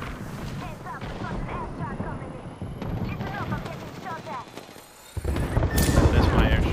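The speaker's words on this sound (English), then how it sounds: "That's my airstrike." Airstrike explosions and gunfire from a ranked shooter video game form dense, rumbling bursts, with voices talking over the battle and a heavy booming surge near the end.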